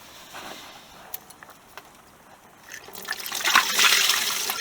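Coolant drains from the thermostat housing of a VW Golf mk2 with a faulty thermostat: a quiet, uneven trickle that swells into louder, steady splashing and spattering near the end.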